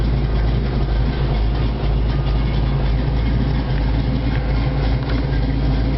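Steady low rumble of a Jeep 4x4 mud truck's engine idling with MSD Atomic EFI, set to about 850 RPM, loud and close with a constant throb and no pauses.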